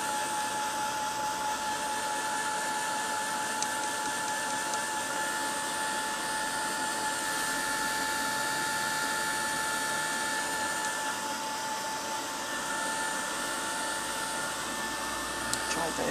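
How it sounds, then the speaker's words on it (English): A heat gun blowing steadily to dry gesso on a craft canvas, a continuous close whirring drone with a high whine that holds unchanged throughout. "So I'm just going to give this a little blast with the heat gun just to dry off the gesso completely."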